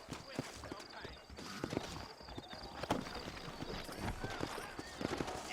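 Horse hooves clip-clop across the ground in the western video game Red Dead Redemption, irregular near thuds of several steps with a short whinny, mixed with game ambience and voices talking over them.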